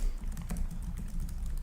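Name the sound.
typing on Acer Predator Helios 300 laptop keyboard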